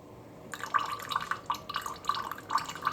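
Thick corn syrup pours out in a series of soft, wet glugs and drips, each brief and close, repeating irregularly over a quiet background.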